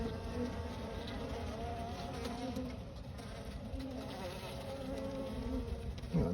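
A dense, steady drone of many honey bees buzzing up close around their hive, continuous and fairly quiet, with no voices.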